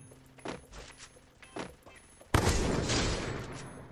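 Gunfire in the mobile shooter Free Fire: a few light clicks and thumps, then a sudden loud burst of shots that rings on and fills the rest of the clip.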